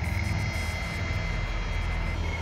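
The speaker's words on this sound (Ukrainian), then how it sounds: "З Москви з зупинкою у Мінську прилетів літак Гольфстрім G450 з бортовим номером T7BRG." A Gulfstream G450 business jet arriving at Kyiv airport in the evening, its engines giving a steady, loud roar with a constant whine that holds without a break.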